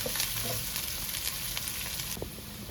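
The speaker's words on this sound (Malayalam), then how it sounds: "ഈ സബോളയുടെ പച്ചമണം ഒന്ന് മാറി മൂത്ത് വരട്ടെ" Chopped onions sautéing in sauce for chicken lasagna, giving a steady, close sizzle and frying hiss with occasional light stirring, alone throughout.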